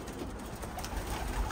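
Racing pigeons coo softly in a loft, a low continuous murmur of calls close by with no talk.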